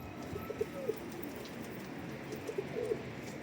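Pigeons coo in a few soft, rounded phrases, one burst early and another near the end, fairly faint against a steady outdoor background with no talking.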